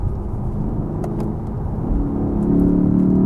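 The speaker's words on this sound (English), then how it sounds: "The exhaust noise gets a bit louder, a bit fruitier." A Lexus sports sedan's exhaust in Sport Plus manual mode rumbles low and then swells louder as the engine revs up, a deep throaty drone building toward the end.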